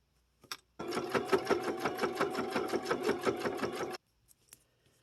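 A sewing machine runs in one steady burst of about three seconds, its rapid even stitching rhythm close and clear, with a couple of brief clicks before and after.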